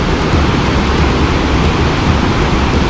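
Water rushes out of a drain tunnel at the Leuwikeris dam like a waterfall, a loud, unbroken roar of churning flow heard up close, with no voices.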